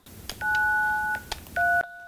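An old landline telephone being dialed: a few clear touch-tone beeps, two long steady tones with short clicks around them, loud and close with no talking.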